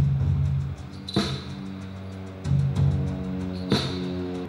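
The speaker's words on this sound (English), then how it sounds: "It's a brush with some sleigh bells." A quiet percussion track of brush strokes layered with jingling sleigh bells, soft swishes recurring in a loose rhythm with brighter accents about every second and a half, with no talking.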